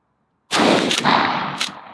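A Mossberg 590 Shockwave shotgun fires #00 buckshot on a shooting range: one loud, close blast bursts from silence, its rumbling tail rolling on for over a second with a sharp crack near the end.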